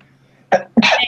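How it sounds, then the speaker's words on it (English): A person sneezes indoors: a short sharp intake-like burst followed quickly by a louder explosive sneeze, close and alone after near silence. "I hate sneezing. I really hate it."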